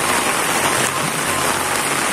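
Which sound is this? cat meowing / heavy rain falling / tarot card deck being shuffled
heavy rain falling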